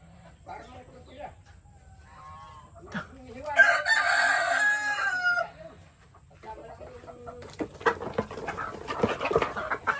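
Native hens clucking and chattering close by, with a louder burst of squawking in the middle and rustling farmyard noise after it.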